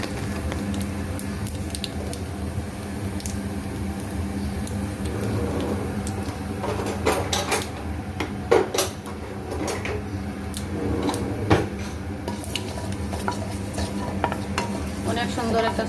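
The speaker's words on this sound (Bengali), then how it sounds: "ফোড়নের জন্য দিয়ে দিলাম তেজপাতা আর অল্প কালো জিরে।" Black cumin seeds and bay leaves tempering in hot oil in a pan for a pabda fish curry, a steady soft sizzle with stirring clatter and a few sharp spatula knocks throughout, close and continuous.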